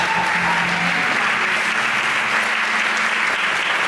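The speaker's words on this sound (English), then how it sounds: "Let's give the students and the volunteers and everyone a round of applause." A concert audience at a summer music camp bursts into loud, dense, continuous applause for the students and volunteers, with no one speaking over it.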